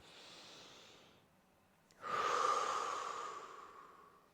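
Slow, deep breaths taken during a breath and mobility exercise: a soft, quiet inhale fades out, followed after a short pause by a longer, louder, airy exhale that slowly trails off, close and alone.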